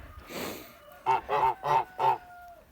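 A Kholmogory gander honks four times in quick succession, loud and close, after a breathy hiss at the start.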